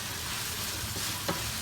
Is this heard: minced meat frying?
yes